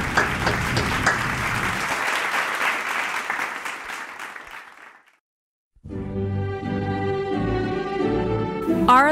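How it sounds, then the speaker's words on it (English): A crowd applauds graduates of a high school class of 2020 at a virtual ceremony, dense sustained clapping that fades into a moment of silence before gentle instrumental music begins. "Let's give a big round of applause to our graduates."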